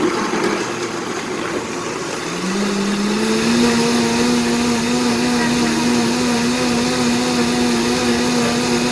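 A blender whirring as it purees a thick green sauce for pork ribs, starting with a low rumble and then settling into a loud, steady motor whine that holds to the end.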